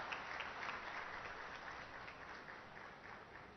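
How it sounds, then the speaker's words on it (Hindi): Audience at a ceremony laying the foundation stone for the new Allahabad High Court building in Prayagraj applauds in a steady, dense wash of clapping that fades slightly over a few seconds, fairly faint and without talk. "तालियों की गड़गड़ाहट से इनका उत्साहवर्धन हो।"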